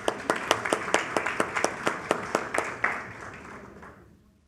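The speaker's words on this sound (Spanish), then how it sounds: "Vamos a brindarle fuertes aplausos," Conference audience claps at a sustained, even pace of distinct strikes that fade out toward the end, following a request for applause at an investment and sustainable development session.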